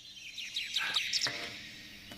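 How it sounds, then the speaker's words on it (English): Several birds chirp in the woods, a series of quick high tweets and trills at moderate distance over a quiet background, with no talking. "You hear the chirping of the birds."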